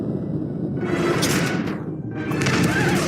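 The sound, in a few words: explosion in Call of Duty video game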